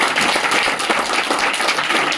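A crowd at a local gathering claps loudly, a dense and continuous burst of close applause with no pauses.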